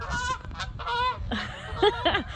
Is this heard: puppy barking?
no